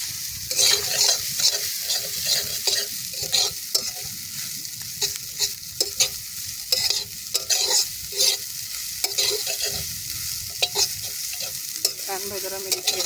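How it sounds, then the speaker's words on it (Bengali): Flattened rice (chira) fries in a hot pan, with a constant sizzle under quick, repeated scraping strokes of a spatula stirring it, close and with no talk. "এবার নাড়ি অনেকক্ষণ ধরে নাড়তে হবে।"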